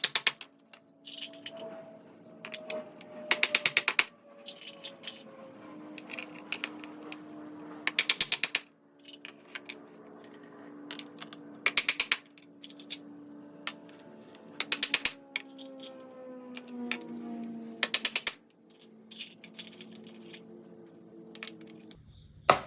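Screws driven into a metal hinge plate on a plastic blocker plate, in bursts of loud mechanical ratcheting and grinding separated by quieter stretches with a low whirring tone.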